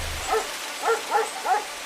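Fierce dogs bark in three or four loud, sharp bursts spaced about a quarter to half a second apart, close by with no other sound around them.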